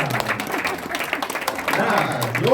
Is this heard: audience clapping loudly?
yes